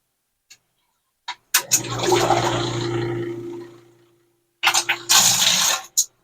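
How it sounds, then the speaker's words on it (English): An electric water pump powered by an A-iPower 4300 dual fuel inverter generator running on propane, giving a loud watery whooshing and gurgling burst of a few seconds, then stopping and restarting in short surges. "we'll just plug it in again. You see, it was able to pump out all the water."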